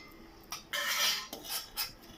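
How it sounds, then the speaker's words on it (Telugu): Carrot pieces drop into a metal bowl with a few quick clattering knocks and scrapes, close up and alone, while making a salad with peanuts. "క్యారెట్ను వేస్తున్నానండి."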